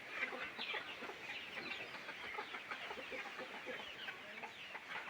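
Dense, continuous clucking from a flock of native country chickens crowded together, chattering steadily with no pauses and no talking.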